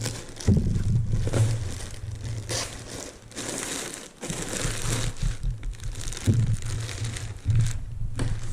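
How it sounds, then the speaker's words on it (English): A plastic bag around a Corsair One Pro PC crinkles and crackles in uneven bursts while it is handled during unboxing, with short quieter gaps between the handfuls of rustling. "Plastic bag."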